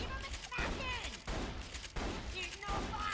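Bandit Scav shotguns firing in Borderlands: The Pre-Sequel, a run of loud blasts about every half second to second, with a gun's chattering voice and electronic chirps blended into the shots.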